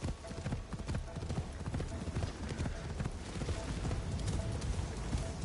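Horse hooves clip-clopping at a quick, steady pace in Assassin's Creed Shadows, continuous and fairly close, with a faint voice in the background.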